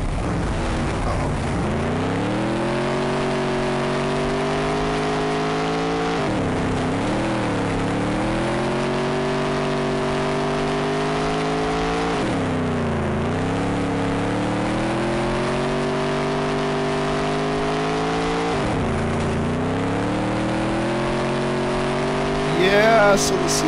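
Sprint car engines in the dirt track racing game DTR:SC drone steadily for the whole stretch, the main car's note rising and falling in repeated swells as it laps, loud and continuous with a rumbling low end.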